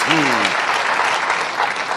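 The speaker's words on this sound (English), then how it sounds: "you can applaud for our band" Studio audience applauding for the house band on a 1976 late-night talk show, steady dense clapping filling the whole stretch, with a brief voice at the start.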